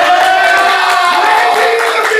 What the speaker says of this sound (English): Everybody start clapping right now.